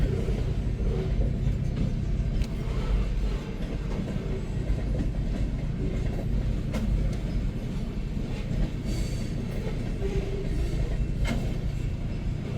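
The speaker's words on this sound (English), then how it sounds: "Short train." A short freight train led by a GP38 locomotive rolls past close by, a steady loud rumble with clickety-clack of wheels over rail joints throughout, in rainy weather.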